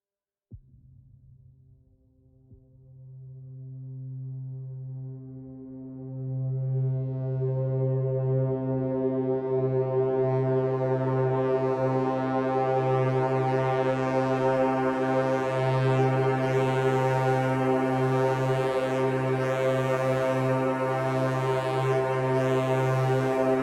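A polyphonic, atmospheric synth texture from a Moog Sirin run through effects, opening with a low drone and slowly swelling into a dense, bright, evolving wash of sustained harmonics, loud and alone.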